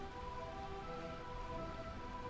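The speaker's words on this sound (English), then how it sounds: "Burmecia, the realm of eternal rain" Steady rain falls in the Burmecia realm of the video game Final Fantasy 9, a soft, even hiss with faint droplets and a thin background tone, quiet and continuous with no voices.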